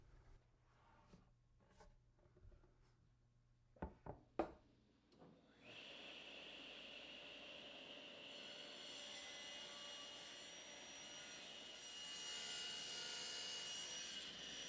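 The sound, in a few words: table saw ripping an 18-degree bevel in walnut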